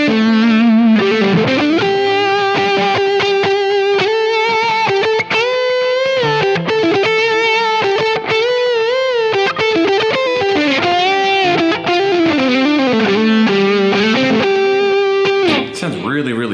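An Ellis TX2 handmade electric guitar, on the full neck humbucker plus the bridge south coil, plays a sustained, smooth, slightly overdriven melodic line with chords and bends, loud and continuous, with no talking over it.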